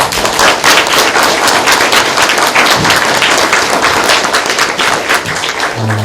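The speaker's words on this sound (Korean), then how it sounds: "다시 한번 큰 박수 부탁드립니다." Loud, vigorous applause from a crowd of university students at a new-party talk concert in Jeju forms a packed, continuous roar of close clapping that eases slightly near the end.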